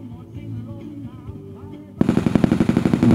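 Machine gun fire erupts at a Thai army unit's family-visit military demonstration, a loud rapid burst of close, rhythmic shots cutting in abruptly after a stretch of announcer speech over a PA.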